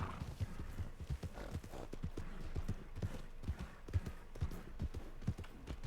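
Horse hooves clip-clop in a steady trotting rhythm in a video game, fairly close and even, with little else over them.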